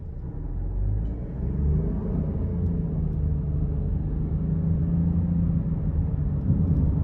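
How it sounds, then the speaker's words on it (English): A 2024 Nissan Rogue S with a 1.5-litre turbocharged three-cylinder pulls away from a red light, heard from inside as a steady low engine and road rumble that builds gently and holds throughout, with no talk. "we'll see coming out of this red light how quick it is to come off"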